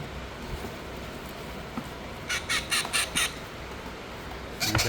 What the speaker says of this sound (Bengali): রিং নেকের বেবি প্রত্যেকটাই রিং নেকের বেবি